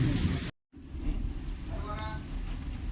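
Steady, dense rain falls close by with a brief cut to silence early on, and a faint voice is heard in the background.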